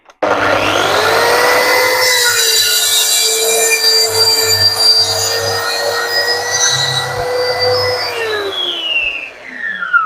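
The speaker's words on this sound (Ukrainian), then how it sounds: "Зараз два проходи і покажу, що в мене виходить з-під моєї пили з мого тупого диска." Plunge saw fitted with a dull blade cutting a workpiece along a guide rail, a loud steady whine with harmonic squeal running about eight seconds before the blade spins down near the end.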